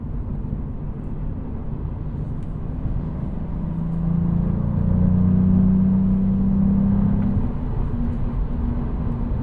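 A Cadillac CT4-V Blackwing accelerates on the road, its engine a low, steady rumble and whir that swells in pitch and loudness midway before easing slightly, heard from inside without speech.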